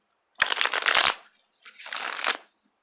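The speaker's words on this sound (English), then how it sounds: "I'm going to just shuffle a couple times." Tarot cards being shuffled in two quick close bursts of crisp riffling and flapping, separated by a brief pause, in an otherwise quiet room.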